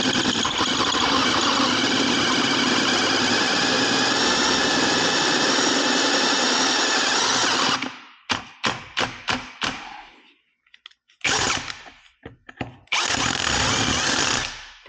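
A big step drill in a hand drill grinds loudly and steadily through thick motorcycle metal, then breaks into a run of short bursts and stops, with a brief pause before a final sustained stretch of drilling.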